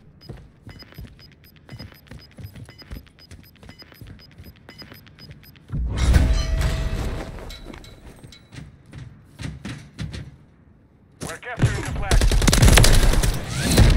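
Rapid gunfire in a video game shooter, bursts of automatic fire and single shots over background game sounds, growing louder and denser in the second half, with some voice chat underneath.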